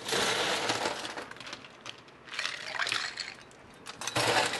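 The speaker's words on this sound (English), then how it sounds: "Next, we're gonna add ice." Ice cubes tumbling into a highball glass already holding gin, clattering and cracking in two bursts with a short pause between them, close and fairly loud.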